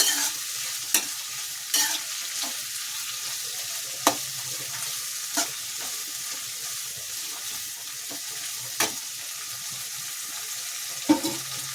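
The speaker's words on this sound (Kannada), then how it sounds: "ಚೆನ್ನಾಗಿ ಕ್ಯಾಪ್ಸಿಕಮ್ ಎಲ್ಲ ಫ್ರೈ ಆಗಿರಬೇಕು ಅಲ್ಲಿ ತನಕ ಬೇಯಿಸ್ಕೊಳ್ಳಿ ಈ ರೀತಿ ಎಣ್ಣೆಯಲ್ಲಿ" Capsicum frying in oil for bisibele bath, a steady hiss of sizzling with sharp scrapes of a spoon stirring the pan at irregular intervals, close and fairly quiet, no voices.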